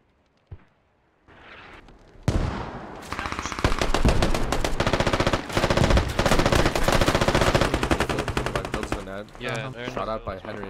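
Rapid automatic gunfire from the Squad video game during a competitive finals match, with loud sustained bursts following a few isolated shots, dense and close, plus scattered louder cracks and an echoing tail.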